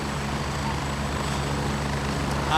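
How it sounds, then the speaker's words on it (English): A video game helicopter arrives with a steady, loud rotor and engine drone holding throughout, swelling slightly at the close, with no talk over it. "Alright, chopper's here."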